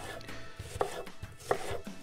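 Knife chopping leek and onion into small cubes on a cutting board, a quiet run of close, steady taps in even rhythm, alone without talk.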